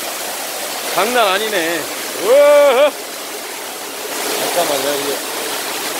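Rushing water of a waterfall in Woraksan valley, Chungju, a steady broadband roar running throughout beneath people talking loudly and excitedly.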